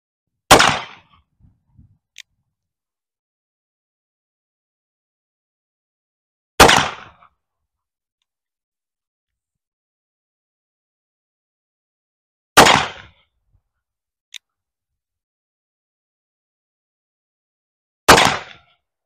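Four sharp gunshots fired over a chronograph, spaced roughly six seconds apart and each ringing briefly into near silence, with one faint metallic tick between two of them.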